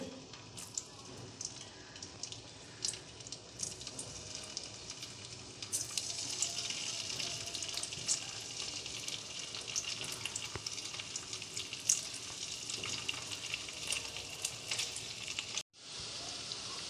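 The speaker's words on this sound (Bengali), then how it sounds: "তারপর আলুগুলো একটুখানি হালকা করে ভেজে নেব" Boiled potatoes fry in mustard oil in a pan for heeng aloo, producing a soft, steady sizzle that grows a little louder midway, with occasional faint clicks and a short silent gap near the end.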